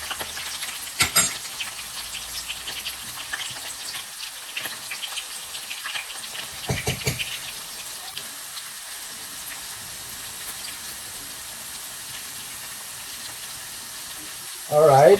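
Very hot oil for chili oil sizzles in a pan, a faint, steady crackle close by with a few sharper bursts and clatters of utensils.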